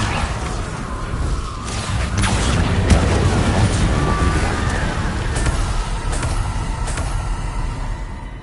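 Spell-blast rumble from the Bombarda explosion spell in Hogwarts Legacy, a loud sustained boom and crashing roar that swells around the third second and holds dense and heavy, with scattered sharp debris crackles, alone.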